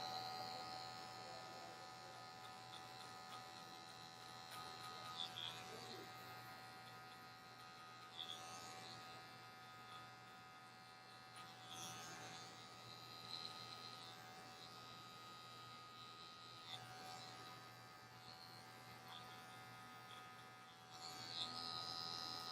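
Electric hair clippers set to zero open buzz continuously while cutting short kinky hair in a high taper, a close steady hum with brief louder rasps each time the blade passes through the hair.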